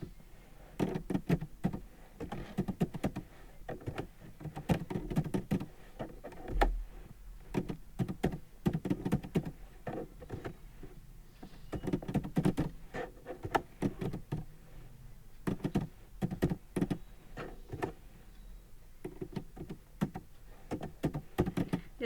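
Names being typed into a table in Microsoft Word on a computer keyboard, a steady run of close, light key clicks with uneven rhythm, alone without talk.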